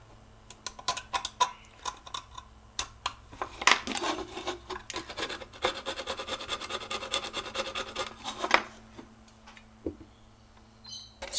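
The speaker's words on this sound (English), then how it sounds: "I'll use a scraper and just slowly take this off the best I can" A scraper works at epoxy glue on a Tomb Raider figure diorama with short, irregular scratching strokes. The strokes come in close, quiet bursts, busiest in the middle.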